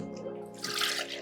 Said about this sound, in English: And I'm gonna add 2 cups of water.